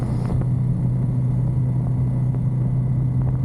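A 2023 Ducati Monster 937 motorcycle engine rumbles low and steady at close range, a continuous throaty drone with no clear break as it is shifted down to fourth gear.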